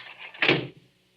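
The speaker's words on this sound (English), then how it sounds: "Close the door, quick." A door shuts in an old radio drama with a single close thud and brief scrape that fades quickly into silence.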